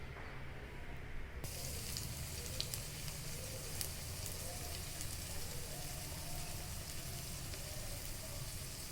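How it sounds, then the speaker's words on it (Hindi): Savory egg-and-chilli French toast shallow-fries on a tawa griddle, giving a steady, continuous sizzle with faint crackles that carries on alone throughout. "ये इस तरह से नमकीन फ्रेंच टोस्ट हम तवे पर फ्राई करके ले लेंगे दोनों साइड से"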